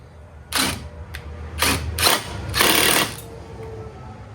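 Ratcheting on the front sway bar link bolts of a newer Ford Bronco, heard as several short bursts of rapid metallic clicking close by, separated by brief pauses, with no talk.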